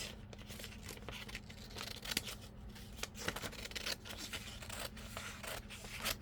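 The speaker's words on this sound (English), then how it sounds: "So just a second while I cut this out." Scissors snip through paper being cut out for an old-world grunge collage and junk journal, a close, quiet run of crisp irregular cuts with faint rustling of the sheet between snips and no talking.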